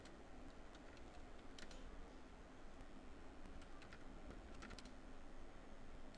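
Computer keyboard keys click in quick irregular bursts as text is typed, faint and close against a steady background hiss.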